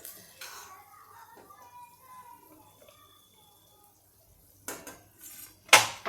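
Dishes and cutlery clinking while fried rice is plated in a home kitchen, scattered light clatters with a few louder knocks near the end, close up and moderately loud.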